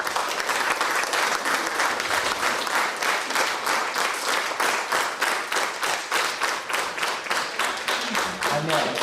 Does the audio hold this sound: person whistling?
no